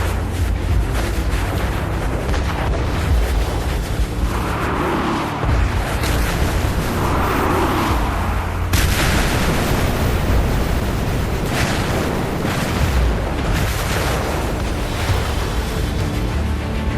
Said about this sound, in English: The Yamato opens fire on the U.S. Navy. Barrage after barrage startled the carriers